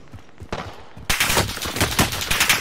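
Video game gunfire in a Rebirth quads match: a quiet stretch with a faint distant shot, then a loud, close burst of rapid automatic fire that keeps rattling to the end.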